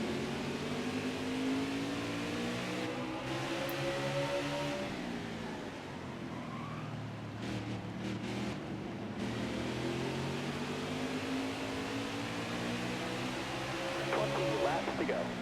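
A NASCAR race car engine in the video game NASCAR Heat 4 drones and revs continuously, its pitch climbing and dropping through gear changes, steady and unbroken throughout.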